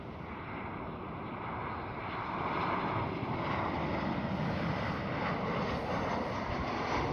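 A KLM Boeing 737-700 airliner at Amsterdam Schiphol produces a broad, steady engine rumble and rush that swells slightly partway through, then holds at a constant level.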